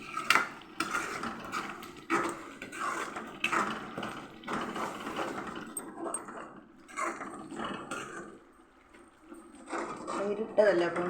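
A spoon scrapes and clinks in a pan as soy bean curry with curd is stirred in repeated bursts, with a person talking throughout.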